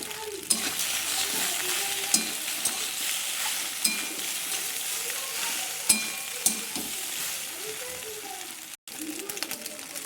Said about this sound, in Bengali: ভালো করে ভেজে নেব পাস্তাটা ডিমের সাথে